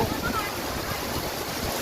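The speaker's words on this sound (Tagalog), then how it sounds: "Ang taas na ng tubig, oh. Ang bilis." Fast-flowing floodwater rising on a farm after heavy rain, a constant rushing wash of water heard at moderate level throughout, with a voice speaking faintly over it.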